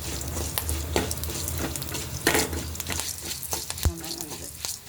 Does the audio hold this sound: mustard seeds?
yes